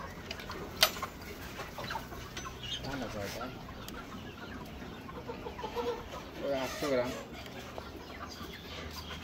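Parent stock chickens on a hatching-egg farm cluck repeatedly at moderate distance, with scattered short calls over a murmur of people talking in the background.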